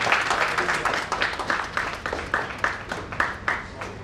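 An audience at a foundation's founding-day event claps in a steady, moderately distant round of applause with rhythmic pulses, with faint voices mixed in.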